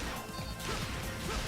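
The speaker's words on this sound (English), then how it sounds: "smashing some egg pawns, dodging these." In the Sonic Colors video game, Sonic smashes Egg Pawn robots with quick crunching impacts and whooshes in a busy burst of game audio.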